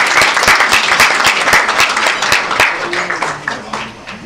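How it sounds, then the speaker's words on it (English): Audience applause for an oil and gas engineering society committee at a technical meeting in Bangkok, steady dense clapping that gradually thins and fades toward the end. "So please, a round of applause to the SPE committee as well to organize these meetings."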